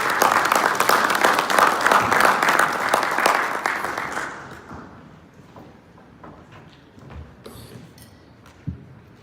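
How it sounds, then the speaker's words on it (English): An audience at an investment conference applauds a speaker, loud sustained clapping for about four seconds before it thins out to a few scattered claps and thumps in a quieter room. "Please give him a round of applause."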